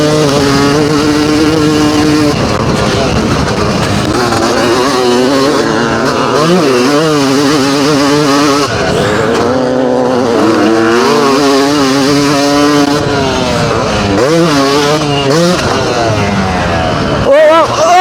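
Vintage motocross motorcycles, a Yamaha 250 YZ and a Honda 500 CR among them, race past with loud, continuous two-stroke engine whine that rises and falls as they rev and shift, close by, with a voice talking over the noise.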